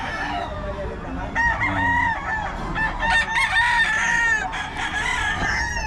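Roosters at a chicken market in Bocaue crow loudly and repeatedly, nearby and overlapping, while hens cluck steadily underneath.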